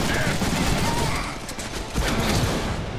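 Heavy, continuous gunfire from the Deadpool video game, a dense rattling barrage that fills the whole moment at high volume with no gaps.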